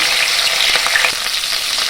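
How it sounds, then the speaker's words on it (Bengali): Fish heads frying red in hot oil for Bengali muri ghonto, a close, loud continuous sizzle with crackles and light spatula stirring, no voices. "এইভাবে সব মাছের মাথাগুলোকে আমি লাল লাল করে ভেজে তুলে নেব।"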